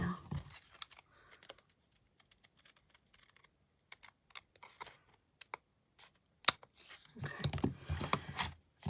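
Scissors snip through thick three-layer card stock in sharp, scattered cuts, with quiet pauses between them and a denser run of cutting near the end. A brief voice speaks once.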